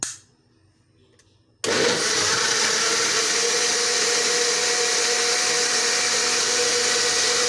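After a short quiet moment, a blender motor kicks on abruptly and grinds a yogurt and water mixture with a loud, steady whirring roar that runs to the end.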